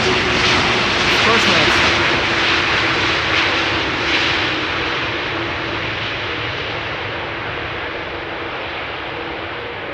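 A KLM jet airliner lands at Amsterdam Schiphol with no reverse thrust, its engine roar loud and steady but slowly fading over ten seconds, while a voice speaks briefly over the noise.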